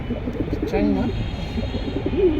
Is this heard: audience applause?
no